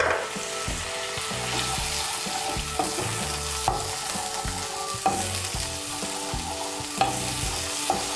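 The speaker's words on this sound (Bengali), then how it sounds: "মশলাটাকে একটু আমি ভেজে নেব" A spice paste of turmeric, chilli powder and cumin fries in a pan for a Bengali doi paneer dish, giving a steady close sizzle with scraping stirs and occasional spatula knocks, no voices.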